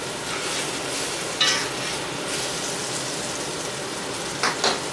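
A T-bone steak sears in a hot pan with a steady, dense sizzle throughout, broken by a couple of brief sharper spits and pops.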